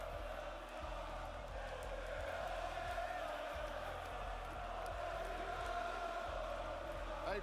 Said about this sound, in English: Everyone's cheering for you right now, Dan.